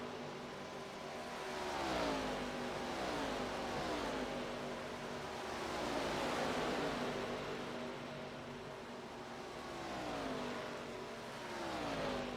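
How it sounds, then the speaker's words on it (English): Stock race cars in a sim racing game at Michigan International Speedway run close together onto pit road, engines droning steadily with rising and falling pitch sweeps as they pass, continuous and loud with no talk. "He gets really close to his bumper onto pit road."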